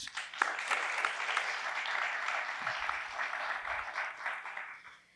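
Audience applause at a public library literary event, a steady sustained clatter of many hands at moderate distance, tapering slightly near the end.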